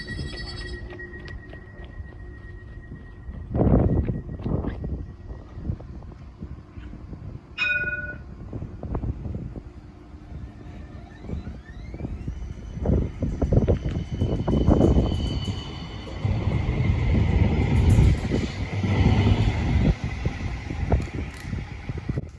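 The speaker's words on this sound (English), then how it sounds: "So here is the tram departing Arlington" New tram departing Arlington stop on the L1 Dulwich Hill light rail line, with a chime, rising electric motor whine and rumbling wheels growing louder as it pulls away.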